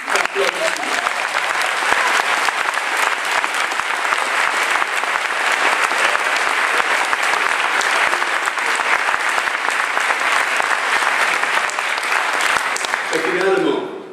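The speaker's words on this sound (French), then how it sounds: "Plus d'applaudissements." Loud, sustained audience applause at the closing session of the 74th IFLA library congress, a dense roar of many hands clapping that holds steady for over ten seconds before tapering off, with a voice briefly audible at the end.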